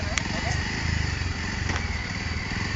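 Motorcycle engine rumbling steadily at close range among a group of bikers, a continuous low throb with a brief crackle, while people talk over it throughout.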